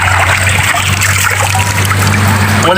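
Water trickling and splashing steadily as the face is washed during wudu, a continuous close running-water sound with a low steady hum beneath and no talking.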